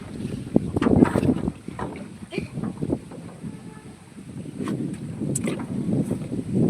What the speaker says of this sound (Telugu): మళ్ళీ పడవ అయితే ఎక్కుతాం గైస్.